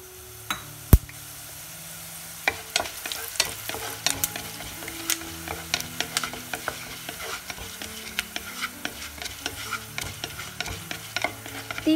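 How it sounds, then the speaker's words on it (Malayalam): Coriander seeds roast in coconut oil in a pan for Onam sadya sambar, giving a dense crackle of quick ticks and pops with frequent stirring clinks, close and steady. "ഫസ്റ്റ് നമ്മുടെ മല്ലി ഒന്ന് വറുത്തെടുക്കാം"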